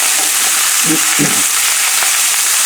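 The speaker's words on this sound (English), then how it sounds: "as long as you hear that sizzling, you know we're doing good" Shrimp chow mein sizzles hard in a high-sided pot over the highest flame, a loud continuous frying hiss with a couple of brief stirring scrapes partway through.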